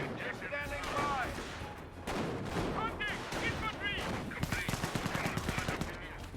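Gunfire crackles from Panzer Grenadiers in the video game Company of Heroes, with a steady stream of rapid shots and bursts over battle noise, while a voice talks over the action.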